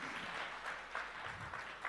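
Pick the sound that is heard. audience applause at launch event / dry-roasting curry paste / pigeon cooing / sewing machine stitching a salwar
audience applause at launch event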